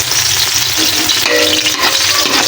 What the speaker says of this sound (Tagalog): Yan na guys, ang pinakauna natin gigisa ay ang ating mga sibuyas.